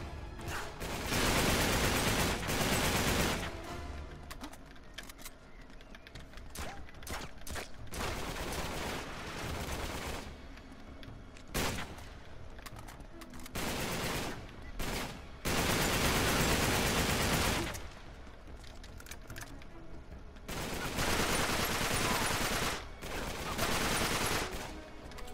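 Sustained bursts of automatic gunfire in the Uncharted 3 video game, loud, dense volleys broken by short quieter gaps across the stretch.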